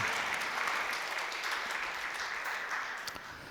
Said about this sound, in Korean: 또 1년 동안 함께 해주신 하나님께 감사와 영광의 박수를 올려드리겠습니다.